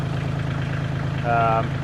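Kioti tractor engine idling with a steady low, throbbing drone, close and constant, with a brief tonal whine rising over it near the end.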